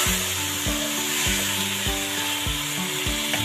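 Okra with tomato paste and chopped green chillies being stirred in a sizzling pan, a spoon scraping in a regular rhythm of knocks and rubs over a constant frying hiss, close up with no talking.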